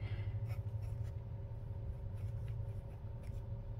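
A Sailor Hocoro dip pen nib scratches across paper in short, faint strokes, with light irregular scritches over a low steady background hum.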